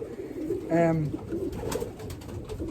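A single pigeon coo rolls out briefly inside a pigeon loft amid a low indoor murmur and some faint background voices.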